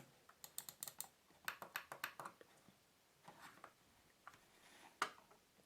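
A Logitech M330 Silent Plus wireless mouse gives off faint, soft, muffled clicks, quick irregular bursts of taps with short pauses between them, very quiet and close.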